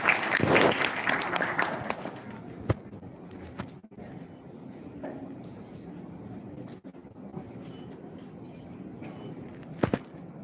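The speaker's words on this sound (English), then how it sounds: "Please give her a huge round of applause" Audience applause welcoming a speaker on stage, a burst of clapping at the start that fades quickly into faint room noise, with a few scattered claps and thumps afterward.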